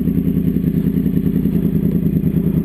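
A motorcycle engine and exhaust rumble close by at a steady, loud idle, with an even throbbing pulse and no voices.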